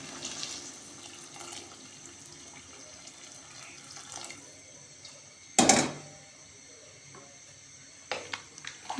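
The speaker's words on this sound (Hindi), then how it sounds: "चावल डालने के बाद अब हम इसमें प्रिपेयर की हुई यखनी ऐड कर देंगे" Strained vegetable stock is poured from a vessel into rice for a vegetable biryani, giving a short, loud burst of splashing liquid amid quiet kitchen background, followed by a few softer clinks and splashes.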